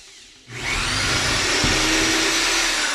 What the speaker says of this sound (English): I'm going to drill into the wood